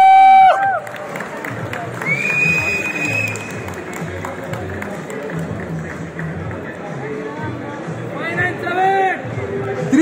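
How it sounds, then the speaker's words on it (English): An audience at an amateur Olympia men's physique bodybuilding show breaks into applause and cheers, a dense wash of clapping and crowd noise with a shouted voice over a loudspeaker and whistles near the end. "Let's give these guys a round of applause."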